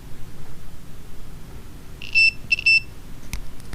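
A multimeter on continuity test during switchbox checks on a Mercury Thunderbolt 500 50 HP outboard gives two short, high beeps in quick succession over quiet room noise, followed by a faint click.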